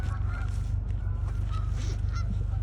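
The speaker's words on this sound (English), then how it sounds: "Oh, there's some geese there." Geese on an autumn day give several scattered, fairly distant honks over a constant low rumble of wind or background noise.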